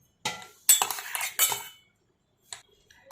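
Ground bhakri flatbread being scooped from a mixer jar into a bowl, a few short metallic scrapes of a spoon against the container in quick bursts, then a brief clink after a pause, close and fairly quiet.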